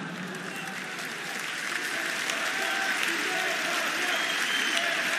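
Audience applause at a French political rally, a steady dense clapping that swells slightly in volume and continues alone without talk.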